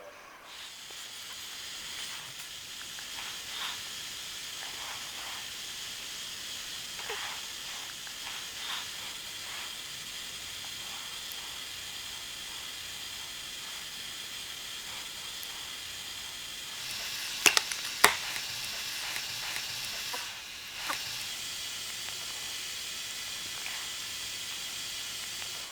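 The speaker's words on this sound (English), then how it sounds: "Now what I will do is come back along the edge with a round welding rod to make sure that I have my edge built up." Hot-air plastic welding of a torn Toyota Prius bumper edge with a round welding rod: a steady, fairly quiet hiss runs throughout, with a brief louder burst of airflow and a few small ticks near the end.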